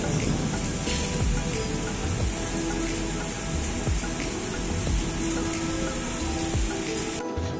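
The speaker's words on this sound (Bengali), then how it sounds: "মানে এত পরিমাণ বৃষ্টি হচ্ছে না দেখো" Heavy rain pouring steadily in the evening, a dense continuous wash of drops hitting surfaces, fairly close and unbroken throughout.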